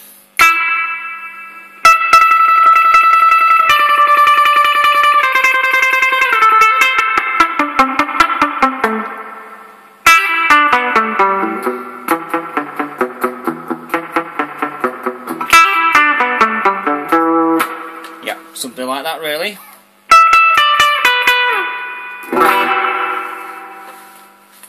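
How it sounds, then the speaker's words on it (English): Electric guitar through a Digitech Hardwire RV-7 reverb pedal, playing melodic phrases and chords drenched in splashy spring reverb, with dripping, twangy tails; a brief spoken remark near the end. "And then the ubiquitous spring reverb."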